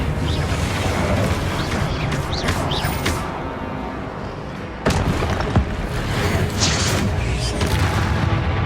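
Loud booming explosions from the Confringo spell in the video game Hogwarts Legacy, fiery bursts and crashing impacts over constant combat din, with a sharp blast near the middle followed by more rumbling detonations.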